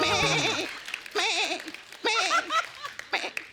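A voice imitates a goat's bleating in several wavering, quavering bursts, fairly close and loud, with short pauses between them, on a comedy show stage.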